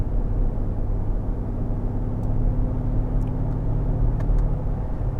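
Interior drone of a 2017 Mercedes-AMG GLE 63 4MATIC SUV being driven in manual shift mode, a steady low engine and road rumble throughout with no clear gear changes.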